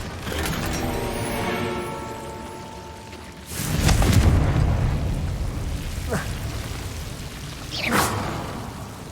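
Confringo fire spell blasts in Hogwarts Legacy, heard as several booming, whooshing bursts with crackling tails, a big one partway through and sharper sweeping hits after, over a constant game-world background.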